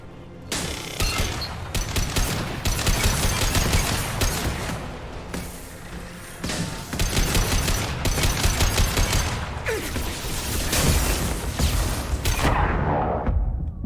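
Turret gunfire and rockets in the video game Mass Effect 2, loud sustained bursts of rapid shots with booming impacts and brief lulls, dense combat sound with no talk.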